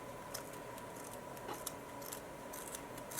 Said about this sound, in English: my scissors are pretty sharp,